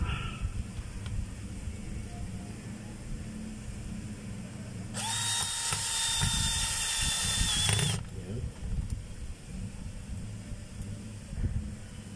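A power tool drives screws into a fitting near a bearing in a short, loud whining burst of about three seconds, set between quieter stretches of low background hum and light handling noise.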